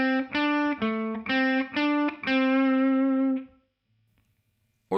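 A distorted electric guitar plays a short run of separate notes, each sustained and buzzy, ending on a longer held note that fades to near silence.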